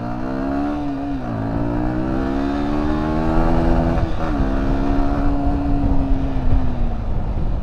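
A Yamaha New Vixion Lightning motorcycle, modified from stock, revs hard on a road ride, its engine note rising and falling in steady harmonic sweeps, loud and close throughout with continuous rider-mounted wind and road noise.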